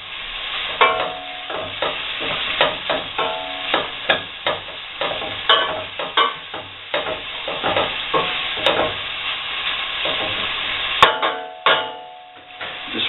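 Sliced onions softening gently in a pan for carrot and coriander soup, with a steady low sizzle under repeated close clicks and scrapes of a spoon stirring and separating the slices.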